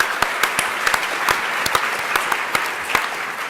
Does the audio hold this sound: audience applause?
yes